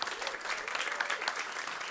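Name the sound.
audience applause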